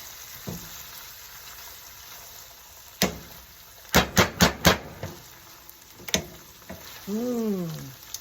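Lemon spaghetti is stirred in a pan, a quick series of sharp clacking strokes with a few scattered knocks over a soft sizzle, close by, ending in a brief wavering voice-like sound.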